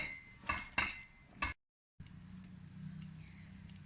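A spoon scrapes and knocks against a pot of simmering plum jam, three clear clinks followed by a low bubbling hiss.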